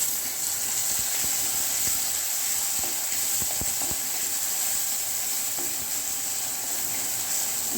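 Tomatoes sizzle steadily in hot oil in a pan while cooking down for a Tamil kuzhambu, a continuous close frying hiss with occasional light stirring clicks and no talk.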